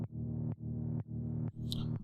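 A looping synth texture built from a bass patch in the Asura synth, processed with OTT, EQ and a phaser, pulses in a steady rhythm of about four sustained swells with sharp attacks, faint and even, with no voices.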